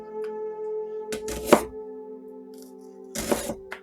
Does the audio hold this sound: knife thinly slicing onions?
yes